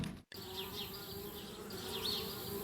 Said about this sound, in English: Darn bees.